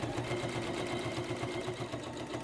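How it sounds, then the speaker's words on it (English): A sewing machine stitches a half-inch side seam on a fabric shopper tote, its motor whirring steadily with a fast, even needle rhythm throughout, close and moderately loud with no talking. "we're going to sew a 1/2 inch seam on either side"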